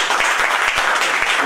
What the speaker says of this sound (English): Can you have a loud round of applause for them?